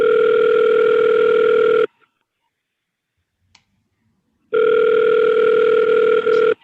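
A phone's electronic ring tone sounds loudly in two long bursts with a silent gap between them.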